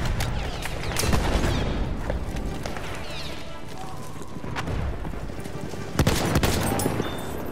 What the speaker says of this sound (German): Ich werfe eine Granate auf